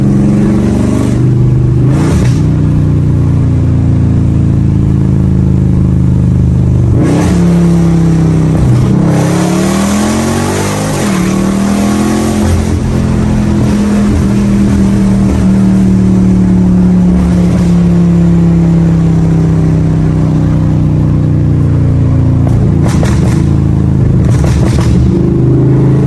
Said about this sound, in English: Like, just listen to the exhaust, man.